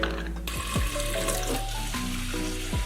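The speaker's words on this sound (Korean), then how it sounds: "플라스틱 물병에 물을 채우고 뚜껑을 닫아줍니다" A plastic water bottle being filled at a sink as part of a dog-care gadget setup, with running water, gurgling rises in pitch, and clicking plastic handling sounds over a few seconds.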